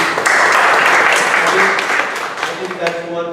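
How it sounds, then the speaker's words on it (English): An audience at a Toastmasters meeting breaks into a round of loud applause, dense clapping that fades slightly toward the end with some voices mixed in. "So I think all of the speakers, including me, should get a round of applause for today."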